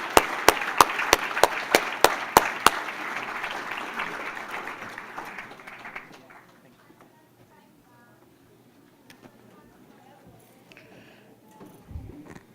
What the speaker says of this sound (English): Let's give a round of applause for all of our Good as Gold nominees.